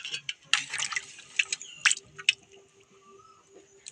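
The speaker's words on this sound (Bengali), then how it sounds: "আমি আরেকবার বেশি করে জল দিয়ে ধুয়ে দিচ্ছি" Prawns are rinsed in plenty of water by hand to wash out sand, with sharp splashes, drips and sloshing in irregular bursts close up, tapering to quieter trickles toward the end.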